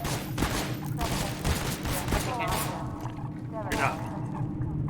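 Dense rapid gunfire from the Half-Life video game fills the scene in continuous bursts, loud and close, with someone talking excitedly over the shooting.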